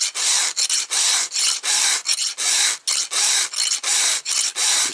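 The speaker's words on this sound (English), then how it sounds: "I'm pulling at the same time as I'm filing" A hand file sharpens the teeth of a .325 chainsaw chain in quick, even back-and-forth strokes, a bright close rasp repeating about three times a second with brief gaps between.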